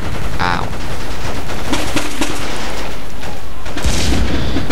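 Dense, continuous Battlefield gunfire with rapid bursts and sharp shots, loud throughout, with a few heavier booms layered in.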